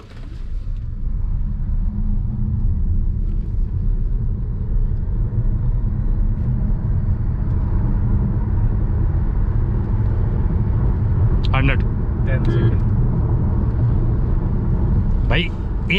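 A Suzuki e Vitara electric car pulls away hard in sports mode from 0 to 100 km/h, a steady loud road and motor rumble inside the cabin with no gear changes, plus a couple of brief clicks.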